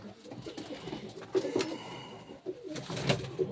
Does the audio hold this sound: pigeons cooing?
yes